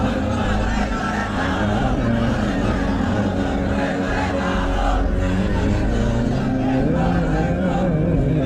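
A large crowd at a Bangladeshi Islamic sermon gathering chants a slogan together, a dense, steady roar of many voices filling the space with a low rumble throughout.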